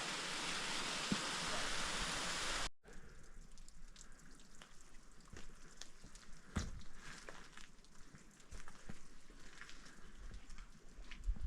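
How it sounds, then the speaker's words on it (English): Waterfall tumbling down rocks in Jotunheimen National Park, Norway, heard as a steady broadband rush that is loud and close at first, then softer and more distant after a brief cut, with scattered splashes and gusts. "we've got a bit of a waterfall in front of us, tumbling down the rocks"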